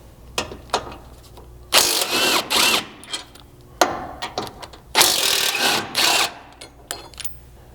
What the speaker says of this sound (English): we'll remove these 2 mounting bolts on each side using an 18mm socket